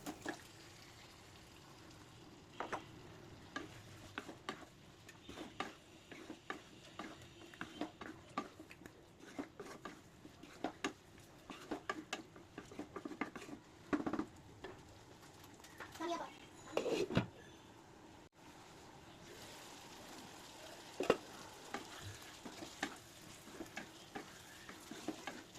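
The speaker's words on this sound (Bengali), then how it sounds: "এখন চিকেনগুলোকে ভেজে নেওয়া চিকেন আর আলুগুলোকে মিশিয়ে দেওয়ার" Fried chicken and potatoes with spices are stirred in a pan for chicken biryani, giving a faint, low sizzle with irregular scraping strokes and a voice talking quietly at times.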